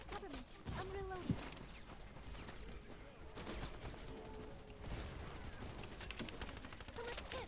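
Bursts of automatic gunfire in the multiplayer shooter Wild Assault crackle continuously over a steady battlefield din, with rapid volleys and scattered single shots under game voice callouts.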